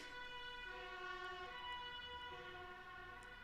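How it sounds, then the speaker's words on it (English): Ambulance siren passing outside, faint and muffled at a distance, a steady wavering wail under low background hum. "So I'm just waiting for the ambulance to go."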